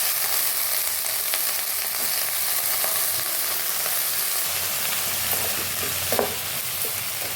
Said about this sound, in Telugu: ఇప్పుడు వంకాయ ముక్కలు వేయాలండి.